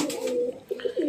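Racing pigeons cooing close by at a loft during a race-day stamp check, a soft low rolling coo that breaks off briefly and resumes in short bursts.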